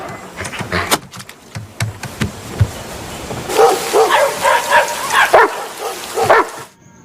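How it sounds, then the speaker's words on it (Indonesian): A pack of dogs barking in an animated film, with a few knocks and clatters first, then several overlapping barks bunched together in the second half, moderately loud. "terdengarlah suara gonggongan segerombolan anjing dari kejauhan"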